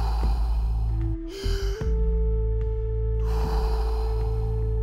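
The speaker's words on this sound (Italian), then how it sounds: "Inspira, espira. Segui il movimento del respiro." Slow rhythmic breathing in a Wim Hof method exercise: audible breaths and a gasp-like inhale over a steady sustained background tone, paced slowly across several seconds with no speech.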